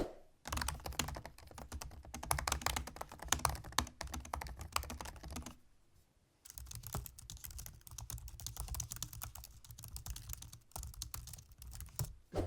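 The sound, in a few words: typing on a laptop keyboard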